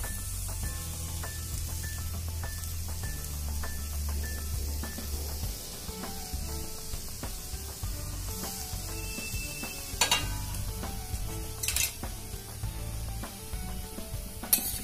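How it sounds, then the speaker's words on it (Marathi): A grated coconut and jaggery filling for steamed modak is stirred with a spatula in a hot kadhai, making soft scraping and a gentle sizzle, with occasional metallic clinks of the spatula against the pan. "आता हे कालथ्याने मिक्स करून घ्यायचे।"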